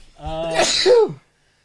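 One loud sneeze, starting with a rising breathy intake and ending in a sharp burst, followed by silence.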